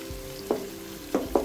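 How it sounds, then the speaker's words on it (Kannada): Pieces of mutton with tomato fry in a pan over a low flame as a spoon stirs them: three or four distinct scraping strokes over a soft, steady sizzle and hum, with no speech. "ಇವಾಗ ಸ್ವಲ್ಪ ಟೊಮೆಟೊ ಆ್ಯಡ್ ಮಾಡ್ಕೊಳ್ತಾ ಇದ್ದೀನಿ. Let's mix this. ಫ್ಲೇಮ್ನ ಸ್ವಲ್ಪ ಲೋ ಮಾಡಿಕೊಂಡೆ."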